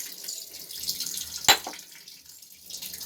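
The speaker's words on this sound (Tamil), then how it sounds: "தேங்காய் எண்ணெய் ஊற்றியாச்சு" Coconut oil poured into a cooking pot while making tomato biryani: a soft, hissy liquid trickle with one brief sharp clink midway, no voices.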